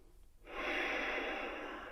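A slow, deep inhale during a yoga session, heard up close as a breathy rushing sound that swells after a brief quiet moment and holds steady to the end, with no speech over it.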